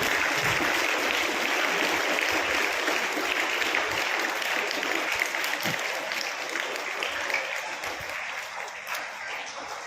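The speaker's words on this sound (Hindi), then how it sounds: "ये जोरदार तालियां हैं सभी बच्चों के लिए।" Loud, sustained applause from an assembled audience of students, parents and staff at a school board-exam felicitation, a dense unbroken wash of clapping that holds steady for the whole stretch with no voices over it.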